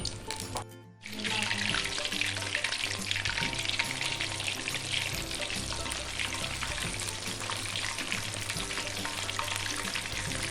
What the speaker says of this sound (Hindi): अब हम इसको फ्राई होने को छोड़ देंगे